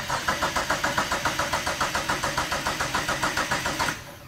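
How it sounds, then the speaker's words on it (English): A car with a no-start misfire cranks on its starter in a fast, even, pulsing rhythm for about four seconds, loud and close, then cuts off abruptly without clearly catching. "let's spin the car over"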